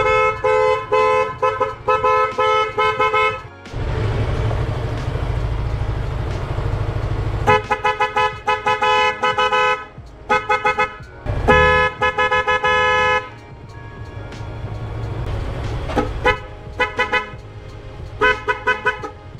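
A loud G-Star aftermarket horn on a Mio i 125 motorcycle blares close up in repeated honks, short toots and longer sustained blasts with brief gaps between them.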